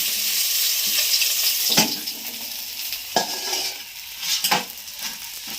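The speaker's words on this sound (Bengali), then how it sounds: "তেল গরম হয়ে গেছে মাছের মাথাটা দিয়ে" Salted fish head frying in hot oil in a kadai, a steady close hiss with a few sharp clanks and scrapes of a spatula against the pan.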